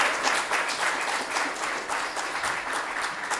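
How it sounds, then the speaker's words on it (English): Sustained audience applause at an interfaith Pride gathering, a dense, steady wash of many hands clapping at moderate volume throughout, with no talking over it. "sometimes you can't hold your applause to the end"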